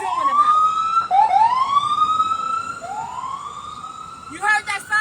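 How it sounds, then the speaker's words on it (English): A police-style emergency siren wails past on a city street, its rising and falling tone sweeping through several cycles, fairly loud and close, with a short burst of traffic clatter at the end. "You heard that siren go by?"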